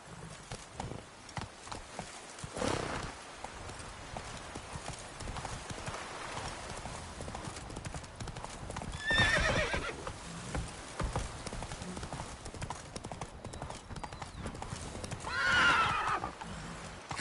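A horse in The Witcher video game gallops with a steady clip-clop of hooves, and two loud whinnies rise above the hoofbeats partway through and again near the end.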